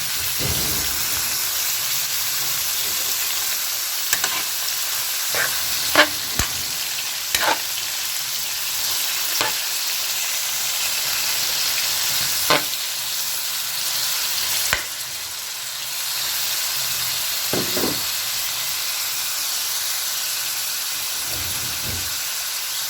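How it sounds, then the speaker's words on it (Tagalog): Chicken liver marinated in calamansi fries in a pan, giving a constant close sizzle and hiss, broken by scattered clicks and scrapes of stirring, with no talk. "Prito nyo lang siya muna."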